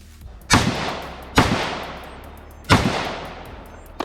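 Three loud, sharp gunshots ring out close by at a stage of a practical shooting match, spaced about a second apart, each followed by a long echoing decay.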